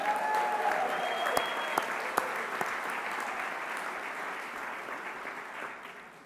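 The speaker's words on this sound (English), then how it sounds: "Let's give our sponsors a round of applause." A large audience at the opening plenary of a mayors' annual meeting in San Francisco applauds its sponsors with sustained, fairly distant clapping that thins slightly toward the end.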